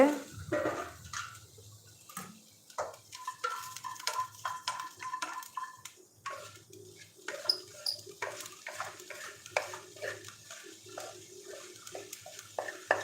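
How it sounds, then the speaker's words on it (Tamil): Okra sautéing in a pan as it is stirred, giving a run of light scraping and clicking strokes at close range, with faint background noise between them. "வெண்டைக்காய் வந்து இந்த மாதிரி வந்து வதங்கிட்டுருக்கு."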